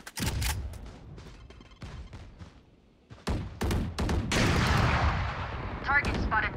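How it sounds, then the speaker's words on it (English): Valorant gunfire and a grenade explosion, with sharp rapid gunshots, then a loud blast with a roaring spread of debris, close and intense, and voices calling out briefly. "Grenade!"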